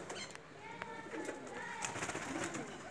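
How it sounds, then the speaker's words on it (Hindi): A Pakistani long-flying pigeon coos softly and steadily through the stretch, fairly close, with some background noise underneath and no talking. "लंबी परवाज़ों का कबूतर है"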